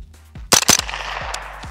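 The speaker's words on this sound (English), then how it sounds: "Let's see if it can handle 2 shots consecutive." Two quick .22 rifle shots fired through a Fleshlight used as a makeshift suppressor, each a sharp, loud crack close by, spaced a fraction of a second apart, followed by fainter clicks and echoing noise.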